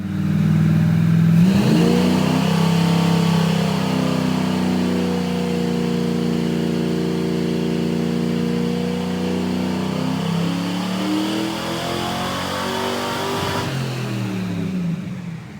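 A Chevrolet Nova SS engine with Holley Sniper EFI set at 34 degrees of timing runs on a dyno, loud and close, climbing steadily in revs with a long sustained roar before settling back.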